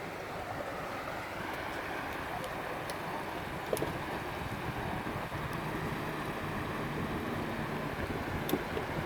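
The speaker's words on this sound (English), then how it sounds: "And that water is really flowing. You can hear that water." Strongly flowing water in the south west arm of Port Hacking, a continuous broadband rushing wash heard from a boat, with a steady motor hum underneath and occasional small splashes or knocks.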